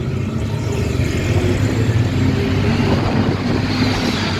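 A BMW S65 V8 from an E92 M3 rumbles loud and close, a dense steady engine roar holding level throughout with no talk.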